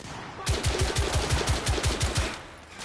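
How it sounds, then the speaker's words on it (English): Rapid automatic gunfire in The Order 1886 video game, about a dozen evenly spaced loud shots in a steady burst that fades out, with no talk. "They're shooting at me!"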